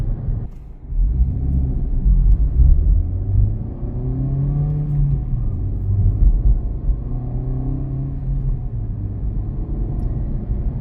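An Acura Integra Type S cruises through city streets, its engine a steady low rumble with gentle rises in revs as it accelerates, heard from inside the cabin with no talking.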